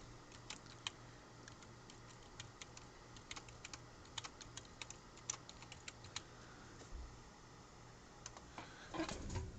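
Computer keyboard typing in a quiet room, irregular bursts of soft key clicks at close range, faint overall, with a louder knock near the end.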